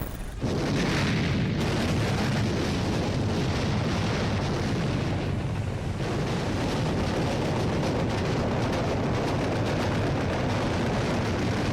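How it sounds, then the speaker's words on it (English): Naval cannon fire shelling the Normandy beaches in World War II, a dense, continuous roar of heavy booms and rumbling blasts that runs loud throughout with no break. "The power of the cannons shattered the silence of a calm morning"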